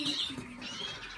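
A captive-bred greenfinch gives short, bright chirping calls from a cage in an aviary, faint and brief over quiet background hiss.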